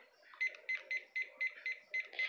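Electronic kitchen timer sounding a series of about eight short, evenly spaced high beeps while it is set in a home kitchen, close and fairly quiet.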